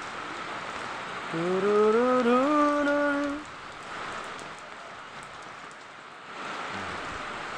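Rain falls outdoors during a party in San Mateo, Rizal, as a steady wash of soft hiss and patter throughout, briefly overlaid by a rising tonal call early on.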